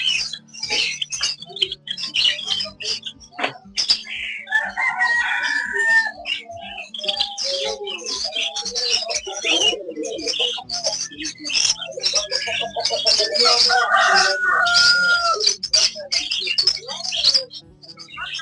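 Chickens cluck and a rooster crows repeatedly at a bird shop on Dalazak Road in Peshawar, with someone talking over the birds throughout.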